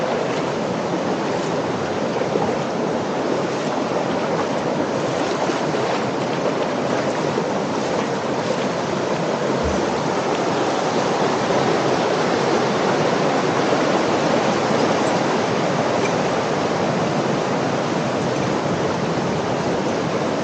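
River water rushes steadily through Yufugawa Canyon in Japan, a loud, unbroken roar of flowing water that stays even throughout, with no voices.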